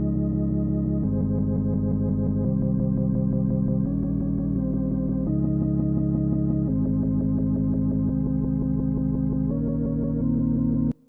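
Synth pads from an indie rock song play in sustained chords chopped into rapid stuttering pulses, steady and full throughout, with chord changes every second or so and no talk.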